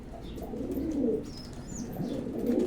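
A released pet pigeon coos in low, throaty, repeated phrases, close and moderately loud, with faint chirps above and no talking.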